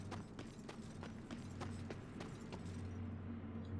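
A horse in the video game Darksiders, its hooves beating out a quick, regular clip-clop of gallop strikes over a low steady hum. The hoofbeats stay faint and thin out toward the end.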